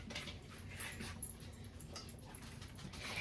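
A dog whimpers and gives small yips while its dinner is prepared in a home kitchen, soft high cries scattered over a low steady background hum, no speech.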